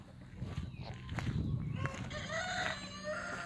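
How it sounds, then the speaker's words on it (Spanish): A rooster crows once at dawn in the countryside, fairly close, with a long drawn-out call over faint background noise. "Ahí tenemos al gallo."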